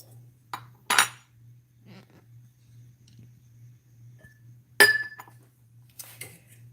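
Glass honey jar being cleaned out, with a few sharp, close glassy clinks and taps of a utensil against the jar, separated by quiet pauses and soft handling noises.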